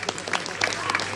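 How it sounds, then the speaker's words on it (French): Audience applause at an accordion evening in Objat for accordion maker René Lachaise, a brief burst of dense clapping with a voice talking over it. "Je pense qu'on peut l'applaudir"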